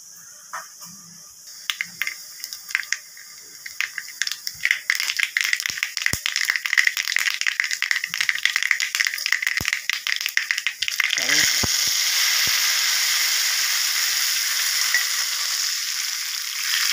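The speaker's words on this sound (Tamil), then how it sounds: "2 டேபிள் ஸ்பூன் அளவு தேங்காய் எண்ணெய் விட்டுருக்கேன், கடுகு, ஜீரகம் தாளிக்கிறேன்." Mustard seeds and cumin crackle and pop in two tablespoons of hot coconut oil, sharp irregular spattering building in density before giving way to a steady loud sizzle.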